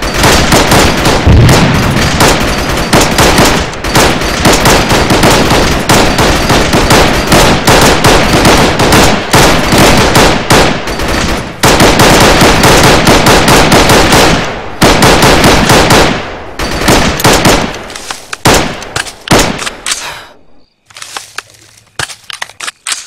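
Medium machine gun fire in the ARMA 3 military shooter, delivered as long, loud, continuous bursts with brief pauses between them, then tapering into scattered shots near the end.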